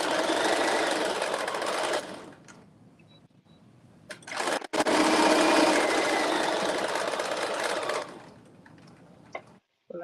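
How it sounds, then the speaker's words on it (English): Sewing the front of a garment to its back along the side seams, a machine whirs in two sustained bursts with a quieter gap between, close and steady. "I'm sewing the front to the back."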